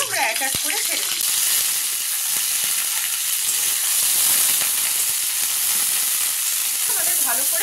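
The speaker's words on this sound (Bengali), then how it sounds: "প্রথমে আমরা ফুলকপিটাকে একটু ফ্রাই করে নেব।" Cauliflower florets fry in white oil in a pan, giving a loud, dense, continuous hiss and sizzle close by, with brief voice-like sounds near the start and end.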